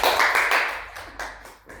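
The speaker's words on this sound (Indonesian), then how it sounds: "Berikan tepuk tangan buat Mela." A short burst of applause from a group in a classroom, quick overlapping claps, close and fairly loud, fading within two seconds.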